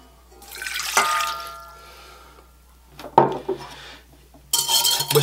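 Warm water poured into a bowl while making bagel dough, splashing pours with clinks of kitchenware between them, close and fairly loud in short bursts separated by quieter gaps.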